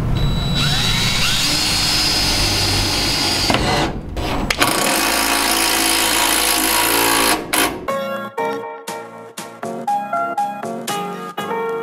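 A power drill whirs loudly and steadily while driving a screw into bus sheet metal during a bus conversion, then cuts to a run of sharp, uneven clicks and short tool bursts.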